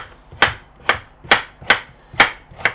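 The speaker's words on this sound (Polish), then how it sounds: "seler, marchewka, pietruszka, cebula i czosnek kroję no na takie grube kawałki" Knife chopping celery, carrot, parsley, onion and garlic into coarse chunks on a board: six sharp, evenly spaced thuds, close and clear, with no talking.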